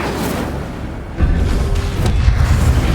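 An Incendio fire spell cast in Hogwarts Legacy, a deep rumbling whoosh swelling in partway through and holding strong to the end.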